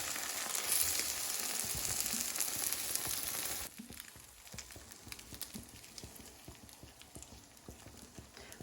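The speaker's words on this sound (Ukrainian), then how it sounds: "І смажимо смачненькі млиці." Pancake batter sizzling and crackling in a hot pan, a steady close frying hiss that drops noticeably in loudness partway through.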